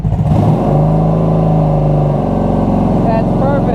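A car engine revs up and holds a steady, loud drone during a battery charging test, close and continuous, then settles lower near the end.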